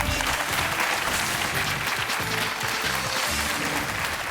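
A television game-show studio audience applauds loudly and steadily for a contestant, dense clapping from many hands filling the room without a break, no voices on top.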